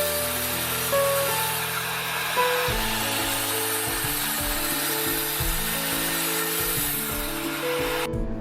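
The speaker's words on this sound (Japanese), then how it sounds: "丸ノコである程度切れ込みを入れてのみで割っていきます。" A circular saw cuts notches into wood, a loud continuous whine with shifting pitch as the blade bites through the board, changing in steps over several seconds before cutting off abruptly near the end.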